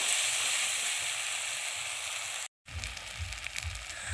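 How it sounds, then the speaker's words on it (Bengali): Ginger and tomato masala sizzling and frying in a pan, a steady close hiss broken by a brief gap, after which the sizzle returns with soft stirring scrapes. "আদা টমেটো ভালোভাবে ভাজা হয়ে গেছে, এবার অল্প অল্প জল দিয়ে মশলাটা কষিয়ে নিতে হবে।"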